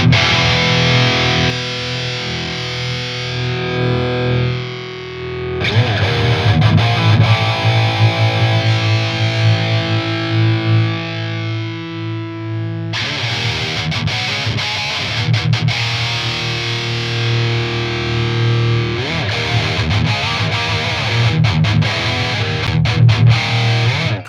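Heavily distorted electric guitar riffing through the Wavemind Amp Suite dual rectifier amp simulator with the Cab 412 OS cabinet, loud and sustained with palm-muted chugs and held chords, pausing briefly between phrases.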